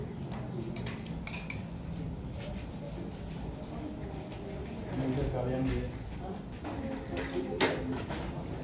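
Metal spoon clinking against plates and bowls in a home kitchen, a few light scattered chinks beneath ongoing conversation and rustling background noise.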